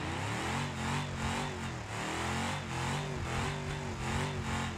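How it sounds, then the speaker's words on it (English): A damaged Ford Crown Victoria engine with bad piston rings revs in the BeamNG Drive driving game, loud and rough, surging and dropping in repeated waves with a harsh, strained tone throughout. "Piston rings are damaged. I think the engine's about dead."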